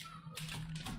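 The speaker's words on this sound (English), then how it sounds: "He slams his thumb on the space bar." A thumb slams down on a computer keyboard's space bar, giving a couple of sharp, hard taps close to the mic over a low steady hum.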